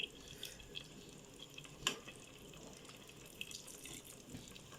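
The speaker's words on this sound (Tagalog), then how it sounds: "yun nga yung tubig, paglagay ng tubig" Water poured into a pan of Filipino adobo, a soft running, trickling splash with a few clinks and drips, faint and close, alone without talk.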